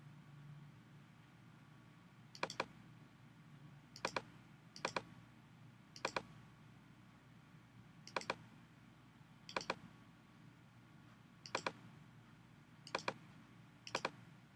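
Nine crisp, isolated computer mouse clicks spaced a second or two apart, close and clear over a quiet, faint background hum.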